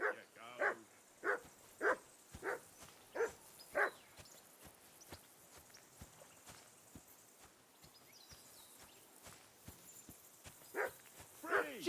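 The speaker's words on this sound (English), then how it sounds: "that barking's driving me nuts" A dog in the video game Kingdom Come Deliverance 2 barks in a steady series of loud, evenly spaced woofs, pausing midway before barking again near the end.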